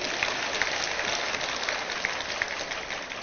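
Warm, steady applause from an audience of staff and guests at a university staff arts gala, dense and even throughout, with a slight swell at the very end.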